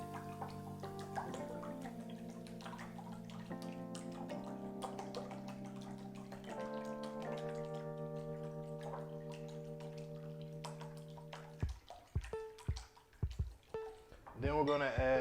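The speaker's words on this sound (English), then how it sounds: "All right, we're gonna whisk that up." Fork or whisk beating six eggs in a bowl for a frittata, a quick run of light clicking taps near the end, following a stretch of steady tonal hum.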